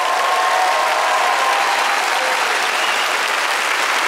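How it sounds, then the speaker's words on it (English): Loud, dense clapping from a comedy audience in Switzerland, sustained evenly for several seconds with no talk over it. "I want you to clap very,"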